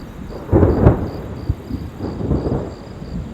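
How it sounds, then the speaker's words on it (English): Low rumbling thunder rolls in two swells, fairly near, over a soft background hiss of rain at a foggy high-mountain campsite. "I'm still hearing thunder."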